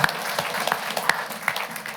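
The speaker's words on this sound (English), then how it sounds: "Let's give them a round of applause." At a county council meeting, the audience gives the Scouts a brief round of applause, steady clapping at moderate level for a couple of seconds.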